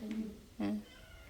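A cat gives two short meows, close and fairly quiet, with a brief pause between them in an otherwise calm indoor setting.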